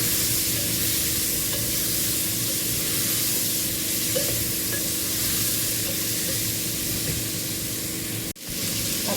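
Carrot mixed vegetables with garam masala, red chilli and spices stirred as they fry, a loud dense hiss of sizzling with a constant scraping stir close by, briefly cut near the end, no voices.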